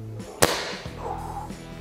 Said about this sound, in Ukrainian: Звук номер один з модератором.